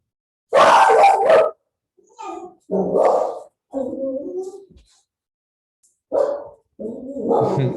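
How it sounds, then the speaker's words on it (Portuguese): A dog barks outdoors in a series of loud, sharp bursts with short gaps between them, sounding fairly close and carrying clearly over an otherwise quiet background. "Está um cão lá fora."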